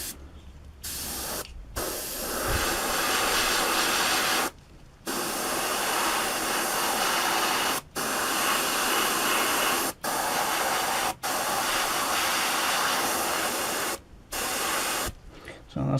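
Air blown across the masked bracket of a Tamiya 1/12 Yamaha YZR-M1 09 motorcycle model: close, loud bursts of airy hiss with brief silent gaps between them.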